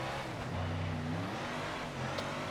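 A sprint car engine in World of Outlaws 24 revs and drops as the driver works between brake and throttle on a dirt track, a steady droning roar with rising and falling pitch.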